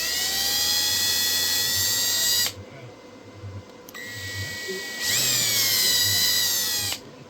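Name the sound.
drilling a 3D printed rail with a 1/8 inch drill bit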